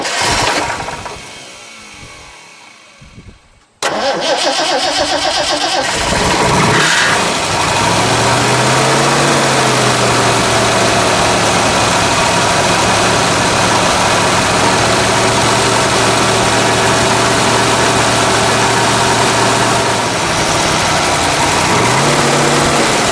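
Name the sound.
1969 Ford Boss 429 Mustang engine starting and idling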